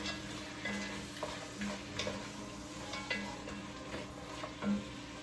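Frozen red, yellow and green sweet peppers being stirred into a cooking pot, with soft scraping, light ticking knocks and a faint sizzle running continuously at close range.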